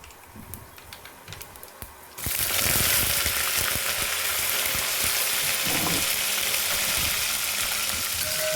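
Curry leaves drop into hot oil for a tamarind okra curry, and after a quiet stretch a loud, sudden sizzle bursts up and then continues as a dense, steady crackling hiss close to the pan.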